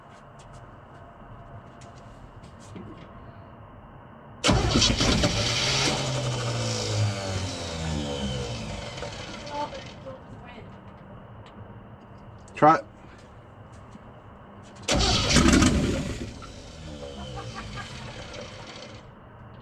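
A 1967 Chevy C30 pickup engine with no mufflers and straight manifolds cranks and catches twice, roaring loudly for several seconds each time with a brief sharp burst between, while a voice speaks briefly.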